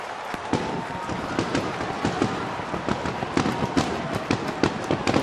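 Fireworks at a Major League Baseball stadium during a 2011 game, a rapid string of crackling pops over steady crowd noise, with no distinct talking.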